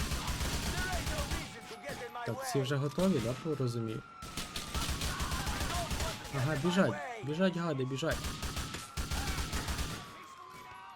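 Bursts of rapid gunfire during a bank robbery in GTA IV crackle alongside wailing sirens and other effects, while someone talks over the noise.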